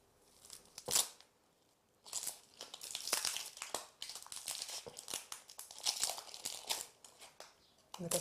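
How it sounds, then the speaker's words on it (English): Dry papery onion skin peeled by hand, close crackling and crinkling in irregular bursts with short pauses, fairly quiet and alone. "cut the top off and peel all the dry skin away"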